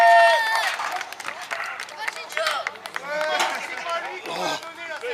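Crowd at a live wrestling show cheering and applauding a wrestler, a dense wash of claps and shouts with a commentator's voice running over it throughout.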